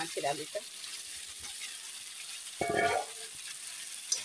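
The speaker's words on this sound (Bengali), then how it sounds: "মশলা কষানো হতে হতে আমি মশলার আলুটা দিয়ে দিলাম।" Potatoes dropped into spice paste in a pan for a fish curry, a soft sizzle running underneath with short bursts of stirring and louder crackling partway through.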